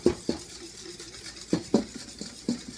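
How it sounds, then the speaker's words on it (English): A whisk beats egg yolks in a pan over heat, quiet rhythmic taps and clicks against the pan bottom at an uneven pace, close and fairly soft. "you're gonna whisk them over this heat, making sure you don't get them so hot that they start scrambling"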